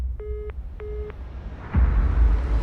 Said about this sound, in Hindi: इतना कह के रानू ने फोन रख दिया।